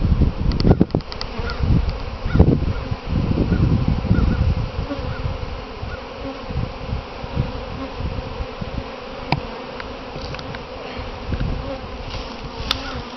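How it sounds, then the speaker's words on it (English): Honeybees buzzing loudly and close as they are brushed off hive frames, a dense continuous drone with rougher bursts of agitated buzzing near the start, no talking. "brush the bees off from each frame"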